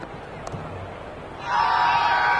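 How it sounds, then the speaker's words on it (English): A large cricket stadium crowd in a video game swells from a steady murmur into a loud, sustained roar partway through. "The crowd are really getting quite raucous."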